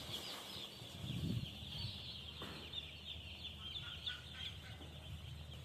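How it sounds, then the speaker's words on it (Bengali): Around 750 one-day-old broiler chicks in cages are fed, giving a faint, steady chorus of high peeping that runs continuously throughout. "এখানে 750 পিস মুরগি বাচ্চা আছে, এই খাবার দেওয়া হইতেছে।"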